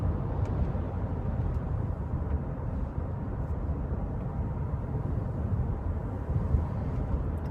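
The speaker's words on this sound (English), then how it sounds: "And the engine actually makes quite a nice noise." A 2004 Kia Amanti engine drones steadily from inside the car while driving. The low, even road-and-engine rumble holds constant at moderate level throughout, with no talking.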